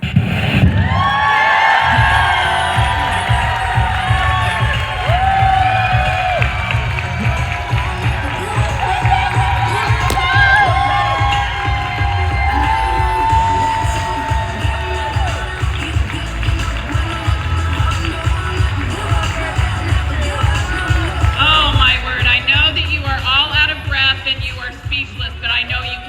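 A conference audience cheers loudly and continuously after a career speech, a dense sustained roar of voices with scattered whoops filling the whole stretch, rising slightly near the end.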